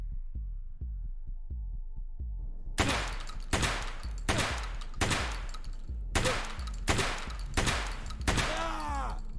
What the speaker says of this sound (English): So that was 8 shots up against a Trooper.